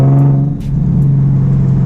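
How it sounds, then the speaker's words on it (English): A straight-piped Nissan 370Z downshifts, its exhaust giving a loud, close, steady droning rumble with a brief dip in the middle. "sound that this car makes when you downshift"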